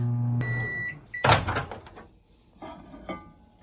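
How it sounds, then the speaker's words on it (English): A microwave hums and beeps while heating chicken soup, then its door clunks open with a few clatters and knocks close by; no talking. "go to the microwave"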